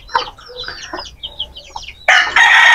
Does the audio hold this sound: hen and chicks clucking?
yes